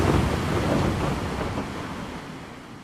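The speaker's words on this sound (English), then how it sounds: "we're going to make the wind even louder, and we make the sea swell more" Stormy sea sound effects: a dense, roaring wash of heavy waves and swelling sea with strong wind noise, loud and continuous, easing slightly toward the end.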